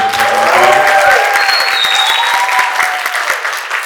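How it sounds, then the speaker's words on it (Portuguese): Audience applause for a master at a Brazilian film festival debate session, a full, close round of many clapping hands sustained throughout, with a tonal sweep fading at the start. "Uma salva de palmas para o mestre Gama"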